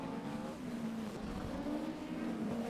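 Midget race cars lap Waikaraka Speedway, their engines a sustained droning whine that rises and falls slightly as the cars run, heard at a moderate distance.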